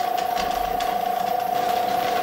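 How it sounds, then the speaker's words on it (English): A rock polisher runs indoors at home, a steady mechanical hum with a fine, continuous rattling churn, alone and unchanging throughout. "the rock polisher going right now"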